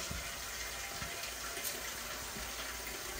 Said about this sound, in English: And then we're gonna get a bucket of warm water